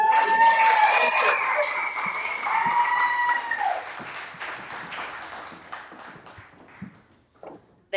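Audience applause at a spring fiesta and school reunion, a loud wash of clapping that slowly thins and fades over several seconds, with a few scattered claps near the end.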